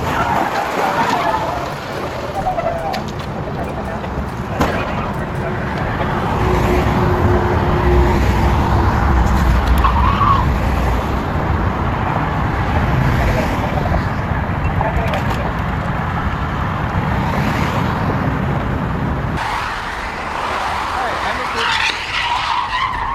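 Tires skid and screech on wet pavement as a car spins out on a California freeway at rush hour, with engine and road noise, rain hiss and voices talking over it.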